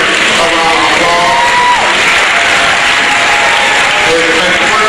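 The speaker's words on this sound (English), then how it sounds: "Students, give your parents a round of applause." An audience at a high school senior awards night applauding the students' parents, a loud sustained wash of clapping with scattered cheers and whoops throughout, filling the hall.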